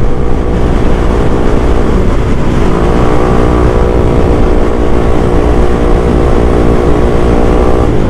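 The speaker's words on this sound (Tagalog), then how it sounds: "Walang power yung motor ko" A weak, underpowered boat motor drones steadily and loudly with a constant buzzing tone, its pitch wavering slightly but never climbing, running alone without talk.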